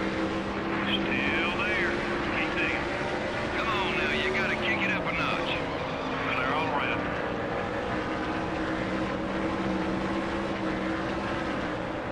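A stock car engine races at Darlington in the NASCAR Thunder 2003 video game, giving a steady droning roar with gently shifting pitch that holds at a moderate level throughout.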